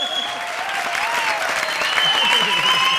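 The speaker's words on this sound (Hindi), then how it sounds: "तालियां तालियां, तालियां।" Studio audience applause at a comedy show, a dense, continuous clatter of many hands, fairly loud and steady, with voices threading through it.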